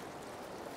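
Heavy choppy river water rushing steadily over a summer steelhead run on the Rogue River, a close, dense broadband wash with no voices.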